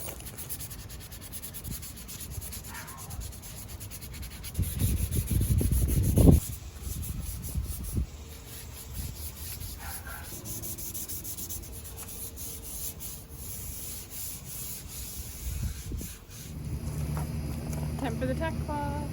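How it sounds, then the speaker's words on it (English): Wooden auction furniture is hand-sanded before painting, with steady rubbing strokes of varying intensity, a louder scraping burst near the middle, and occasional speech over the work. "But first I gotta kind of do the sanding of these."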